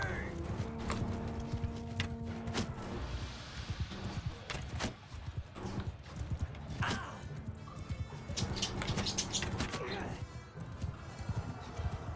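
Horse hooves clip-clop through a busy Mount and Blade battle, a steady trotting rhythm buried in a dense mix of game noise and shouting voices, with occasional whinnies.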